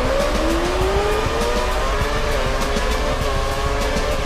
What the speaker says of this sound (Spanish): conduciendo este auto de Fórmula 1 acá en estas pistas aéreas extremas